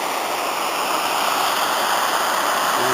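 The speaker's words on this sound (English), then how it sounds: "There's a rapids going under" Steady, loud roar of river rapids rushing beneath a main-road bridge at Betws-y-Coed, a continuous broadband wash of turbulent water with no pauses and no voices.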